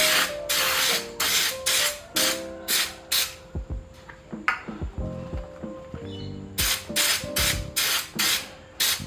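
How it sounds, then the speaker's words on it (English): Repeated short bursts of hissing aerosol chain cleaner sprayed into chain links, about a dozen in an irregular rhythm, with clicks and rattles between them. "while spraying the chain cleaner, just try to put it all inside as well, inside the links"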